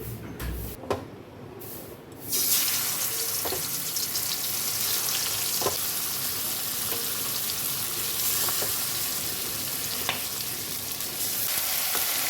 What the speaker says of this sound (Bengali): আমার কড়াতে তেল বসিয়ে দিয়েছি